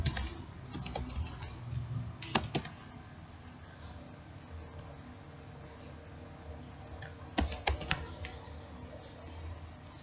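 Computer keyboard typing while entering Arduino code for a Tinkercad simulation, soft steady key clicks under a low background hum, with two short louder bursts of rapid keystrokes.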